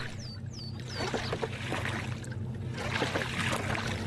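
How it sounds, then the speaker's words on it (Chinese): A small boat is poled through mangrove waters at high tide, with soft splashes and trickling water close by and a few bird chirps early on. "撑着小船穿行在这片红树林当中"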